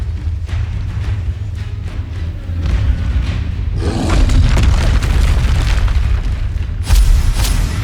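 Loud explosive booms from combat spells in Hogwarts Legacy, with a big blast around the middle swelling into a roaring rumble over constant heavy background noise, then another sharp burst near the end.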